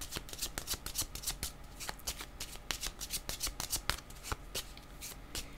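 Tarot cards being shuffled by hand, a steady run of crisp riffling flicks and soft slaps, close and fairly quiet with no talking.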